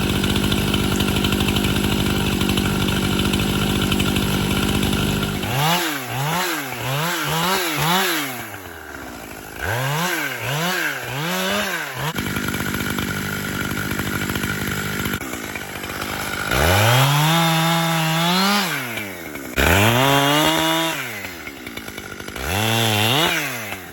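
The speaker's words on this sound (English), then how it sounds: "that is an absolutely awesome chainsaw" Echo CS-7310P chainsaw cutting cedar fence posts: a loud, close engine idling, then repeated rising and falling revs as the chain bites in through several cuts, with deep bogging throttle swells throughout.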